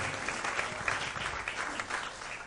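Audience at a magic night show clapping steadily, a dense wash of close applause that fills the whole short stretch with no voices over it.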